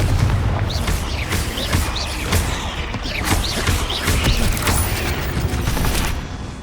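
Confringo fire-blast spells cast in a cave fight in Hogwarts Legacy, a series of sharp cracking bursts and booms over a steady rumbling battle din, loud and close, about a half dozen distinct hits with no talk.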